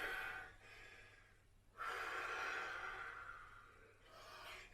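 Heavy breaths during a kids' sports workout in Japan, a few long rasping inhales and exhales rising and falling, close and fairly faint, with no talking.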